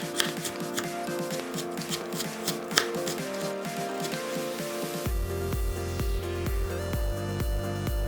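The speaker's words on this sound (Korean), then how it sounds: "배추김치 한 줌도 채 썰어서 작게 썰고 대패 삼겹살 100g도 비슷한 사이즈로 잘랐다" Knife cutting cabbage kimchi and thinly sliced pork belly on a board, quick rhythmic chopping taps at first, then a denser, steadier run of cuts, close and fairly quiet.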